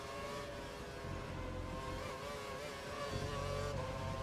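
A Formula 1 car engine in the F1 2012 racing game at the Spanish Grand Prix holds a steady, loud high-pitched whine throughout, its pitch wavering slightly as revs shift, with no talk.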